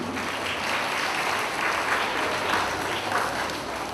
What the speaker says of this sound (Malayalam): so let's give them a big clap for this team